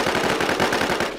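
Rapid automatic gunfire in the video game Infestation, a loud, close burst of evenly spaced shots rattling without pause.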